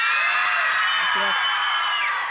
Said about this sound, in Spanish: Un grito por Romeo